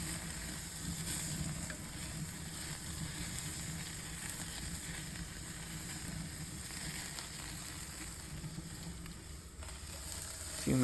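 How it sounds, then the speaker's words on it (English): Skirt steak and oil-coated rosemary sizzle over an open cooking fire, a steady, faint crackling hiss that runs evenly throughout with no talking. "You can see the oil on the rosemary is catching fire."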